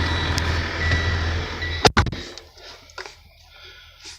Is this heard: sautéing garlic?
no